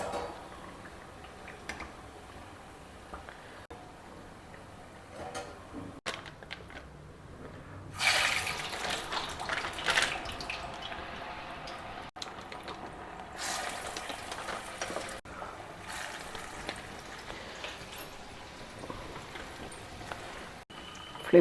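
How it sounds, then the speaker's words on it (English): Vadai deep-frying in hot oil, a low bubbling sizzle through the batch that swells into louder crackling bursts around the middle, heard close with no talk. "Flip them over and fry till the bubbling reduces."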